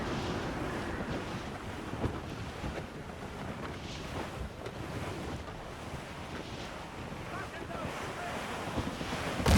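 Wind and waves at sea in the Assassin's Creed Rogue video game, a steady loud roar of gusting wind and breaking surf around a sailing ship, continuous throughout with no voices.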